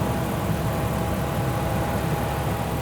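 Lamborghini SV engine running, a steady low mechanical rumble with a faint whine, continuous and fairly loud from close by.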